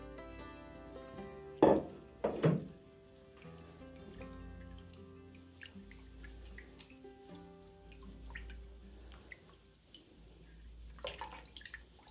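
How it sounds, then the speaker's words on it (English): Water draining and dripping as wool dyed with apple leaves is rinsed, with two louder splashes early on, then a soft steady trickle and scattered drips nearby. "drain it, rinse it a couple of times and let it dry"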